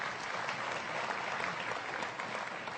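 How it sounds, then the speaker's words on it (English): An audience at a Freedom From Religion Foundation talk claps steadily, a dense, even wash of many hands applauding throughout with no pauses or talk over it. "I knew if you ever clapped, it would be at the wrong moment."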